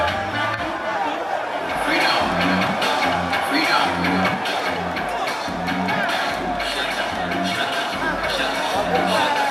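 A large, enthusiastic crowd of fans roars and cheers steadily at a concert, with dense babble and occasional whoops, and a pulsing low beat underneath throughout.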